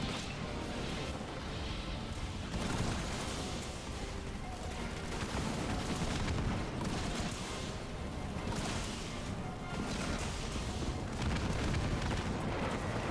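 Dense rumbling explosions from a Decimus beam attack in Halo Wars 2 during a 1v1 match, repeated booms and crackling blasts layered over continuous battle noise.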